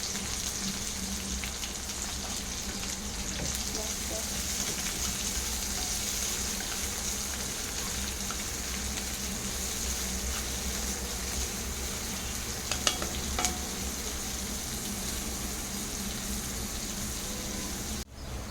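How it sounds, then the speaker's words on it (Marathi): Finely chopped onion fries in a pan until golden, making a continuous even sizzle and crackle for a long stretch, with a few small utensil clinks near the end and no talking. "कांदा आपल्याला सोनेरी रंग येईपर्यंत भाजून घ्यायचा आहे."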